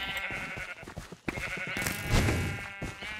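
Sheep bleat in a blocky sandbox video game during a team battle, several short wavering calls over busy game effects and clicks, fairly close.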